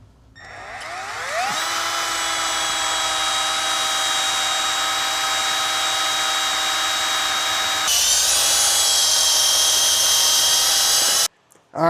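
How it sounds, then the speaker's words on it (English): A power drill bores into the center of a non-serviceable car ball joint, spinning up after a second into a loud, steady high-pitched whine that shifts in pitch partway through as the bit bites, then stops abruptly near the end. "now we're gonna drill right into the center of this bottom one"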